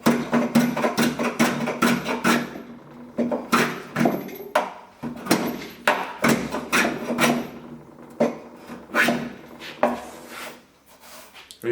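A small wooden hand plane smooths a wooden piece, cleaning off saw marks. Roughly a dozen short, crisp rasping strokes follow one another close up in an uneven rhythm, with brief pauses between them.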